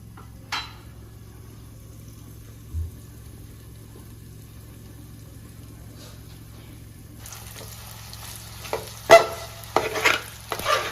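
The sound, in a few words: frying egg with garlic chili mix in covered pan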